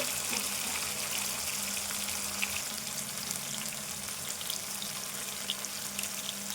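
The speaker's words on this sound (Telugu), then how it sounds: "నేను ఎక్కువ పొయ్యను కొద్దిసేపు వేగాలి ఇవన్నీ" Potatoes and spices fry in oil in a pan for aloo pulao, a steady close sizzle and bubbling hiss that runs evenly throughout with faint crackles and no talk.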